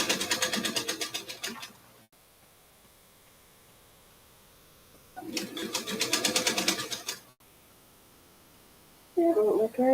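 A sewing machine stitches layers of lace in two bursts of about two seconds each, close and fairly loud, separated by quiet pauses, with a brief different clatter at the end.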